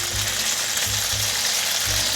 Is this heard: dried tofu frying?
yes